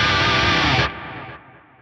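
An electric guitar lead tone through an Axe-FX style processor with a distortion gain boost and delay rings out loud and alone, then drops in two steps as the repeats trail off.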